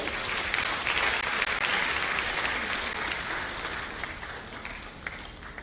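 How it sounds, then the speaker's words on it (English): A large audience at a live event in the National Theatre applauds a university vice chancellor, the thick, continuous clapping loud at first and slowly thinning and softening toward the end. "One more applause for him."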